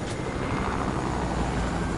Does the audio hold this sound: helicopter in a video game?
yes